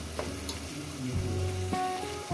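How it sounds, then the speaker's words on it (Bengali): Chicken kosha cooking in a pan with a spoon of ghee added, giving a steady close sizzle with a few scraping stir strokes and no voices. "কষানোর মধ্যে দিয়ে দেবো একটু ঘি।"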